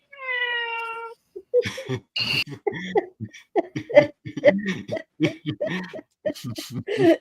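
A stray cat gives one clear, drawn-out meow at close range, followed by a person talking at length.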